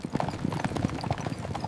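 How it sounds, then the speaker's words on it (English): Horse hooves of a horse-drawn carriage clip-clop in a steady, brisk rhythm, close and clear, with no other sounds over them. "a grand carriage, pulled by fine horses, arrived"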